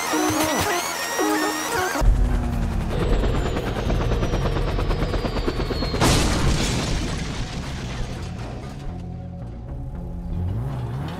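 A helicopter in the GTA5 video game, a loud, steady rotor thrum mixed with booms and crashing game effects.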